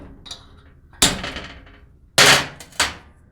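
A fairly sharp chisel knocks weld spatter balls off a welded axle differential, giving three loud, close, sharp metallic strikes with ringing decay, one light tap before them, and no talking.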